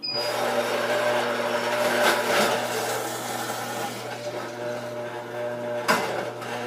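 A Breville juicer fitted with its root-vegetable attachment runs with a steady motorized hum and whine while root vegetables and greens are fed through it, with a sharper crunch near the end and no talking.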